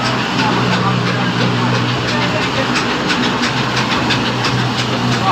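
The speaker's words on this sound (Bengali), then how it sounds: "আমাদের মিল চলতেছে এই যে।" An automatic mustard oil mill machine runs inside a factory, giving a loud, steady mechanical drone with a low hum and a continuous rhythmic clatter and hiss that never lets up.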